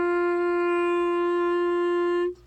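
A clarinet sounds an open G with no fingers down, one steady sustained note held for over two seconds with a rich, even tone, then cut off cleanly, alone and close.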